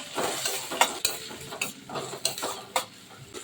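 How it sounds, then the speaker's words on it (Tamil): Onion, green chilli and curry leaves sautéing in a pan after mustard seeds have popped, giving a steady close sizzle broken by several sharp clinks and scrapes of a stirring spoon. "வெங்காயம் வதங்கிட்டு இருக்குது."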